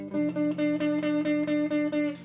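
A single sustained guitar note rings out, steadily repeated with a quick rhythmic pulse, clear and close with no voices.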